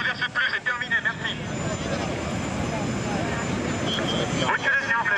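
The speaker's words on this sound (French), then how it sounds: "nous allons pousser cet avion" Engines of an Airbus A380-800 drone steadily as the airliner is pushed back, a loud broad roar filling the scene while people talk over it.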